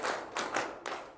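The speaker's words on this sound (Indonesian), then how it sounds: "ayo tepuk tangan semuanya" A class of high school students claps hands together in rhythm, three loud bursts of group clapping in quick succession, close and without talk over them.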